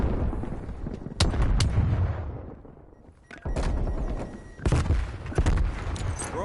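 Loud bursts of gunfire and heavy booms from a Call of Duty Cold War match, with sharp shots around a stun grenade throw, a dip to quieter rumble mid-way, then renewed dense firing.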